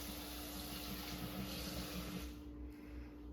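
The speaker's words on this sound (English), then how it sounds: "Add more water" Water pours steadily into a bowl to rinse freshly made homemade butter, a continuous close gushing and splashing like a running tap that thins out toward the end. No one speaks.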